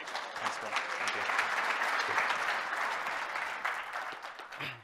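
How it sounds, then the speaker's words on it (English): Applause from the audience at a Microsoft presentation: fairly quiet, continuous clapping from a crowd that holds steady, then tapers off near the end. "I appreciate the applause."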